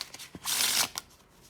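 A deck of playing cards is riffle shuffled close up: a few light taps, then one dense fluttering burst of cards interleaving, followed by a soft settling snap.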